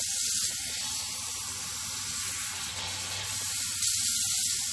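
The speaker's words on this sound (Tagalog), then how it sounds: "Lagyan ko pa ng konting tubig," Water poured into a hotpot cooking pot, producing a steady close hiss and splash that holds for several seconds without pause.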